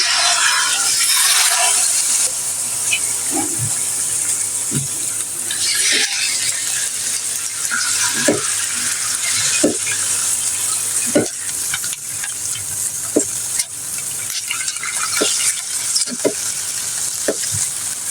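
Chicken strips frying with sautéed garlic in a pan, a steady bright sizzle punctuated by regular scraping and clicking stirs from a utensil, close and continuous with no talking.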